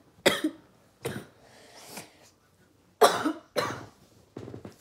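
Someone coughs repeatedly at close range, a few harsh bursts with short pauses between them, the later ones coming in a quick cluster.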